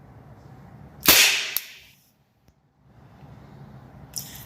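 A CZ Shadow 2 pistol fires a single sharp, close crack that rings out and fades within a second. A softer click follows, and another short burst comes near the end.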